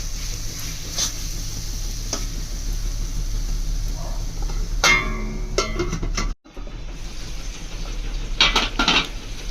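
Spices being stirred and fried in a pan for mutton curry, with a metal spoon scraping and clinking against the pan over a steady low sizzle, alone without talk.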